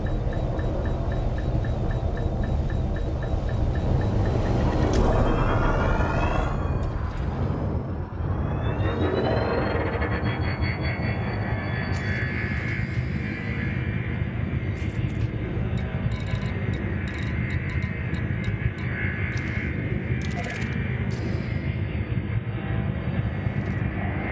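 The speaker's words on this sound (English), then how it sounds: "Engines engaged." Spaceship engines in Elite Dangerous spool up with a rising whine and then settle into a steady, loud broadband roar with a sustained hum, joined by a few brief clicking tones near the end.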